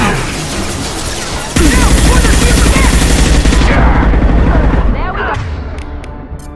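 Intense, loud gunfire in the shooter Mass Effect 2: rapid automatic bursts and booming shots crowd together, then thin out toward the end. A voice speaks briefly over the shooting.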